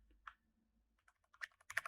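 Computer keyboard typing, a few scattered keystrokes early then a quicker burst of clacking near the end, close and clear with no voices.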